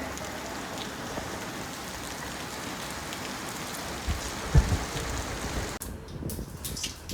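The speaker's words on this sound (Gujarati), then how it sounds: "ફૂલ પવન અને વરસાદ સાથે વરસાદ શરૂ થયો છે." Evening rain falls in strong wind, a steady close hiss of drops on surfaces with a few louder knocks, and the noise thins abruptly near the end.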